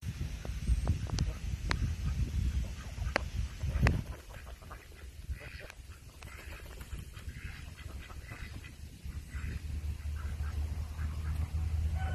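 Ducks quack steadily throughout, a busy flock close by with overlapping calls against a constant low rumble of a storm-swollen creek flowing.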